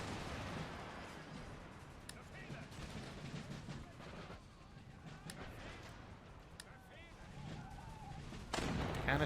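Cannons fire canister shot in Empire Total War, with scattered booms and crackling volleys over a rumbling battlefield din, ending in a louder burst.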